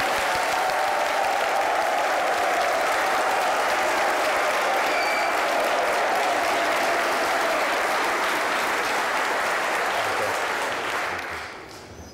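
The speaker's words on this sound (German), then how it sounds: "tosender Applaus natürlich" Loud, dense applause from a studio audience rolls on steadily for about eleven seconds at full strength before beginning to taper at the end.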